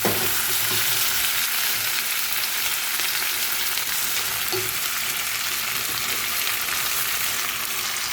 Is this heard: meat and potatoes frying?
yes